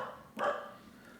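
A dog gives a single short bark amid a noisy, chaotic indoor scene, one sharp burst rising briefly over background sound.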